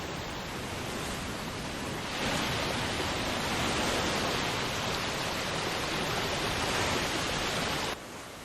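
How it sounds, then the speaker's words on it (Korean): A waterfall roars from a scene in the film A Quiet Place: a loud, dense rush of water that swells after a couple of seconds, holds steady, then drops off abruptly near the end. "아버지가 아들 마커스를 데리고 간 곳은 바로 폭포였습니다"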